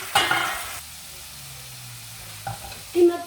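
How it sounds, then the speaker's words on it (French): Courgettes frying in a pan give a faint sizzle, with a brief burst of stirring scrape at the start and short clatters near the end. "Il faut bien faire cuire les courgettes, enlever toute l'eau"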